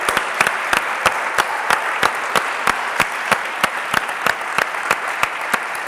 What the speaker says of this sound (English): So I want to ask, please, for a round of applause for all the Ennova team, for all the work they did